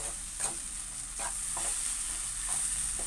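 Jackfruit halwa with sugar being stirred in a pan, heard as a soft, steady sizzle broken by several scraping strokes of a spoon, close and alone with no voices.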